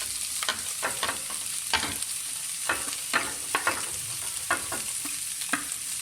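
Chicken and vegetables for spring roll filling are tossed in a hot pan with a soft, continuous sizzle and a series of distinct scraping and clacking stirs spaced a fraction of a second apart.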